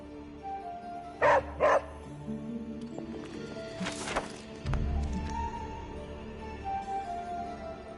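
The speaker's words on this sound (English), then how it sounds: "Hey, Charlie Warley puppy face" A dog in the Midnight Suns video game on PS5 gives two sharp, close barks, followed by softer whimpers and shuffling over a quiet ambient backdrop.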